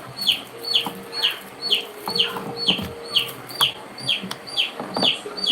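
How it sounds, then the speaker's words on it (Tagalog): Chickens cluck and chirp in a steady string of short, bright calls close by, over a low background hum. "May sisiw."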